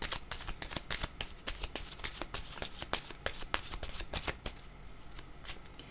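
Tarot cards being shuffled, a dense flurry of quick, crisp riffling flicks and slaps close up, steady for several seconds before easing off.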